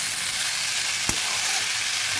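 Taro stolons and potato sizzling in a pan while being stirred, a loud, continuous close frying hiss with one brief scrape of the spoon midway.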